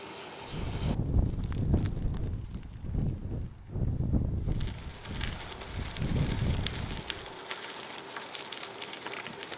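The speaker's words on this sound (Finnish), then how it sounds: "Melkoisen navakka tää tuuli täällä" Steady, heavy wind buffeting the microphone in loud gusts during a bicycle ride near Lake Saimaa, Finland, rising and falling over several seconds, with no voices.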